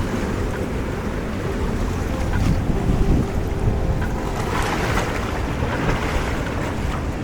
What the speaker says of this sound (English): The sea is a little rough right now,